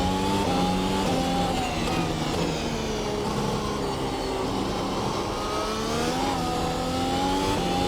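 Mercedes W12 Formula 1 car engine in iRacing, a loud continuous high-pitched whine climbing steadily through upshifts to seventh gear, rising and dipping pitch sweeps at close range with no talk.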